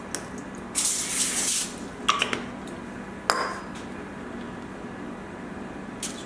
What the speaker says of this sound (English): A light spray.